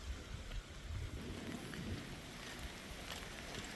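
Steady rain with rumbling distant thunder outdoors at a baseball field by the bleachers, a dense continuous wash of drops and low rolling thunder throughout, with no voices.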